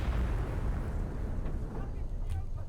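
A tank is hit by gunfire and explodes in the war strategy game Men of War: Assault Squad 2, a heavy low rumble that rolls and fades beneath a talking voice.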